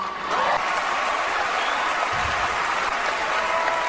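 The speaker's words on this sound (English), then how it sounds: "big applause, big applause" Applause from a crowd at a speech: a dense, even roar of clapping that holds steady and fairly loud from start to finish, with no individual claps standing out.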